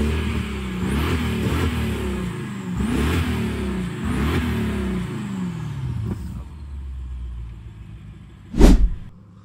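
A BMW 650i with 817 Nm and 583 hp revs loudly in repeated surges in a garage, its rumbling engine note rising and falling several times before settling, then a sharp loud burst near the end.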